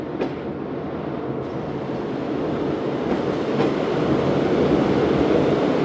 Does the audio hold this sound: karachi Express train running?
yes